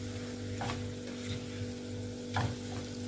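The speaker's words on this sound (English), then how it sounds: "The water has dried up and we are frying the beef now" Beef sizzles and fries in a hot pan with salt and curry powder, a steady crackle and a few scraping stirs of a utensil.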